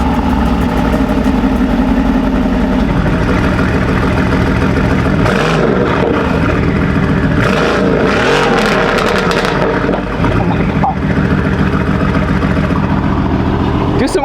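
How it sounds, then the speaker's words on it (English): A 900 hp Mercedes-AMG GT R engine idles with a low rumble, then revs up in several throaty bursts, loud and close throughout. "I just want to show you guys what the car sounds like."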